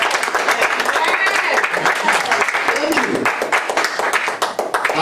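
A church congregation applauds the choir during a morning worship service, with steady dense clapping from a crowd sustained throughout, mixed with voices.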